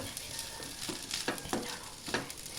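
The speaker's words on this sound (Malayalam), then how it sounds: "വേറെ മസാലയും അരിഞ്ഞ് ചെറുതാക്കി ഇട്ടിട്ട് ഇങ്ങനെ ഇളക്കി കൊടുത്തുകൊണ്ടിരിക്കണം." Chopped onion and masala frying in hot oil in a pan, with a continuous sizzle and several scraping stirs at irregular intervals, close by and alone without talk.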